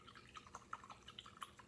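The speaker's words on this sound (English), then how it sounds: "now I'm going to put that in the water and swish that around" A paintbrush swished in a bowl of water while glazing a ceramic sneaker bank, giving soft, quiet dripping and sloshing patters in quick succession with no talk.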